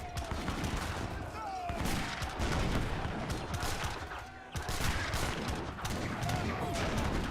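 Musket volleys and cannon blasts from an Age of Empires 3 battle, with heavy cavalry, Papal Lancers and heavy cannon clashing; dense, continuous crackling gunfire with booming shots runs throughout, and a voice is faintly present underneath.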